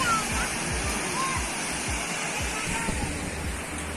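A waterfall at Mahabaleshwar in Maharashtra roars with a dense, steady rush of falling water, loud and unbroken throughout, with faint voices in the background.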